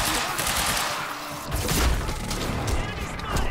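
Gunfire from Quantum Break comes as a dense, noisy barrage with sharp impacts and crashes layered on top. Loud, close shots continue throughout, and a busy game soundscape fills the background.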